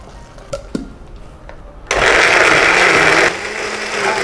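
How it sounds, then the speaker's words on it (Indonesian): A blender whirs loudly as it purees chili, coconut oil and lemongrass with a little water. It starts abruptly after a few soft knocks, runs at full speed, then drops to a lower steady whine. "Sekarang kita tinggal blender sama sedikit air."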